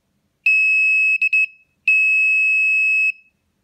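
Clear electronic beeps from a satellite antenna rotator's 3D sensor during calibration: one long tone, a few quick short pips, then another long sustained beep, crisp and close with silence between.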